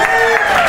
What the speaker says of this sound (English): Give this guy a nice round of applause, by the way.